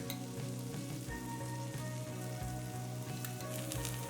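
Oil sizzling around a ragi dosa in a pan, a steady close frying hiss with fine crackles and a few soft scraping bumps.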